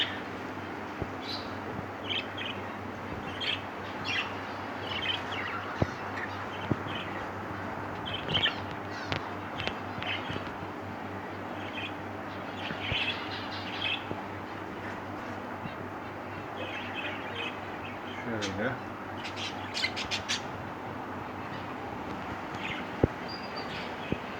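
Scattered bird calls, chirps and caws ring out inside a pet shop in İzmir over a steady background hum, with brief sharp sounds now and then and no speech.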